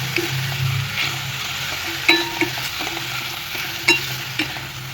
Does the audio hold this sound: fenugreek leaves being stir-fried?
yes